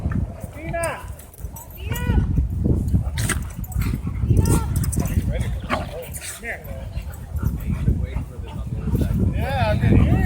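At a dog park, an angry black dog fights a Pitbull and a German Shepherd, with repeated loud close barks, yelps and whimpers in a busy scuffle while people talk over the commotion.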